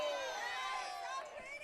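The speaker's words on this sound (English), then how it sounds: "Big groan out of the crowd here behind home plate." A crowd behind home plate at a college softball game lets out a loud, sustained groan of many voices that slides downward in pitch and fades slightly toward the end.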